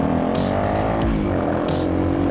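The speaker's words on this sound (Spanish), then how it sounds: "tiene el exhausto modificado, tiene un slit SC Project. Suena chévere, la moto no es escandalosa" A KTM Duke 250 motorcycle with a modified SC Project slip-on exhaust, its engine giving a steady, moderately loud harmonic drone that rises and falls slightly in pitch, with no voices.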